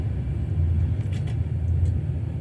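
A diesel locomotive in Train Sim World 2 throttles up gradually, a steady low engine rumble holding loud and even throughout with faint higher whines drifting in and out.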